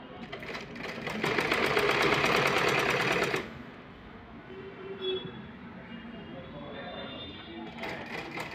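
A sewing machine stitching blouse fabric runs in a loud, fast, steady mechanical whir for about three seconds, stops, then starts again briefly at the end. A voice talks quietly in the pause.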